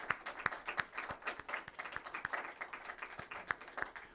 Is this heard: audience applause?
yes